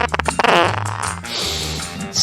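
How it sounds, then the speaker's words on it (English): A loud, wet, sputtering fart sound effect in a rectal mints commercial, a few quick blurts followed by a longer stretched rasp. "They make your farts smell"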